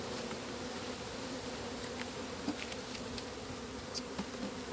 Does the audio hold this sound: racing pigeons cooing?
no